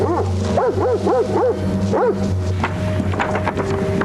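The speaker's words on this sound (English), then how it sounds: "Warwick County Sheriff's Deputy Bob Urban and his canine follow the suspect's tracks" A sheriff's police tracking dog barks in a quick run of loud, close, rhythmic barks while following a suspect's trail outdoors, then falls to softer whines and yips.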